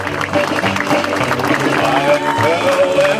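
An audience applauds steadily at a statue presentation event, with crowd noise and a voice speaking over the clapping.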